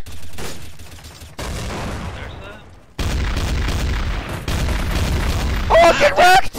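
Heavy shotgun blasts and gunfire in Counter-Strike: Source, loud booming shots in separate bursts with rumbling echoes, a voice briefly exclaiming over the final moments.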